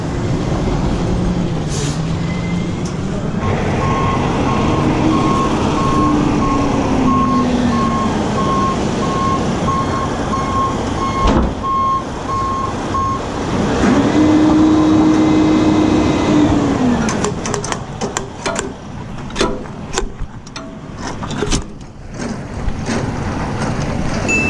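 A truck moves a J&R Schugel trailer, its loud reversing alarm beeping steadily for much of the clip over a constant engine drone, with a rising tonal whine from the truck and clanks and rattles toward the end.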